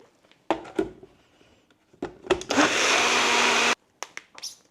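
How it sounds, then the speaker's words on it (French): A small, not very powerful blender whirs in a short burst of a little over a second, mixing a peanut butter protein smoothie. Scattered clinks and handling sounds come before and after it. "c'est vraiment un petit blender pas très puissant"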